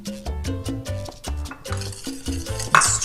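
A spoon stirs beaten egg into a cornstarch pudding mixture for a jelly dessert, with a steady rhythmic scraping and swishing against the bowl, close and moderately loud, alone without talk.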